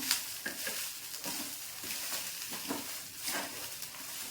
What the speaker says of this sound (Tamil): இப்போ இந்த நல்லா கலந்து விட்டுருவோம்